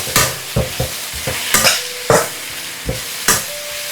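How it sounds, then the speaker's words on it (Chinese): Winter melon stir-fried in a wok over high heat, with a series of loud, sharp spatula scrapes and clanks against the metal, spaced irregularly over a low background sizzle. "开大火快速翻炒，让冬瓜和配料充分融合。"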